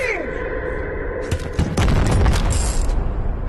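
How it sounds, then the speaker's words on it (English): Cannon and artillery fire in the video game Animal Company, heavy booms and rapid bursts of gunfire rumbling over continuous game noise. "Cannon shot."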